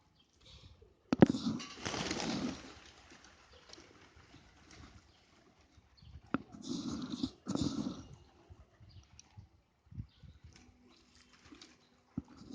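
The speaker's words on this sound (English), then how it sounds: "I didn't even realize these many birds will turn up by my word or by these grains" Pigeons and other birds flock to grain scattered on the ground, with intermittent bursts of flapping wings and soft cooing, loud at times and then quieter between flurries.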